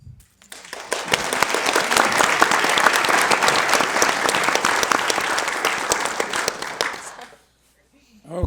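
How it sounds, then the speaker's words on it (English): An audience at a dispute resolution symposium breaks into loud, sustained applause. The clapping is dense and even for about seven seconds, then stops abruptly, and a voice begins at the end. "Let's give them another round of applause."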